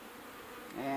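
Honey bees buzz inside a beehive, a close, continuous droning hum that rises in pitch and loudness as a bee passes nearby toward the end.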